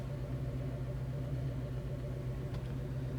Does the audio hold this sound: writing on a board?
no